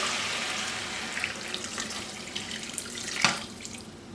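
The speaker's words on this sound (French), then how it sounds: "Je rajoute l'eau que j'ai fait bouillir." Boiled water pours into a pot in a vegan home kitchen, a continuous close splashing gush with one brief sharper splash near the end.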